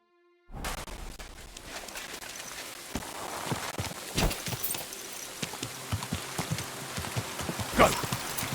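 Horse hooves clip-clopping in the medieval video game Kingdom Come: Deliverance II, a run of irregular thuds over a steady rain-like hiss, moderately close and fairly quiet.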